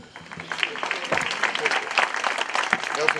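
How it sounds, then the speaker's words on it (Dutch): Audience applause in a Dutch television studio show, a steady wash of clapping from many hands that builds after a soft start and carries on with voices mixed in. "Als u hard genoeg klapt, hoort ze het misschien."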